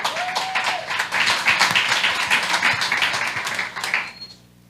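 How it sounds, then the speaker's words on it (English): An audience at a blockchain education event claps steadily for a few seconds, a moderate wash of hands that thins out and stops near the end. "Round of applause."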